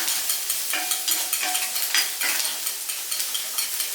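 Onions sauté in a pan for an egg stir-fry, with a soft constant sizzle and light rhythmic scraping and tapping of a spoon stirring them, close up and without speech.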